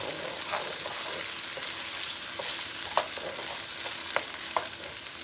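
Carrots stir frying in a hot wok for a gluten-free chicken vegetable stir fry, a steady close sizzle with scattered clicks and scrapes of stirring throughout.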